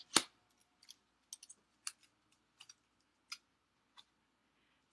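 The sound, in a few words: die cutting machine cutting out paper shapes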